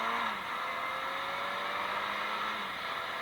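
A small four-cylinder motorcycle engine purrs and climbs in pitch as it accelerates, a steady mid-level whir with faint rising harmonics and no voices.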